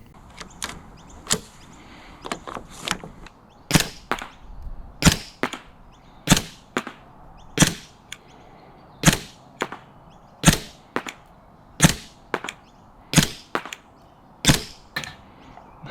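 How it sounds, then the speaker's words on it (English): An APS Shark CO2 gel blaster pistol fires repeatedly at a target about 20 meters away, giving sharp, snappy cracks spaced roughly a second apart with faint gassy hisses between them, with no one talking. "let's go see how accurate this blaster is at 20 meters"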